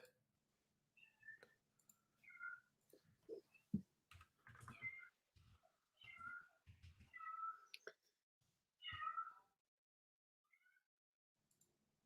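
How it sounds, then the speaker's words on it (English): Several cats meow in short, scattered calls at close range, mixed with soft clicking and faint tapping in an otherwise quiet room. "I hear kitties."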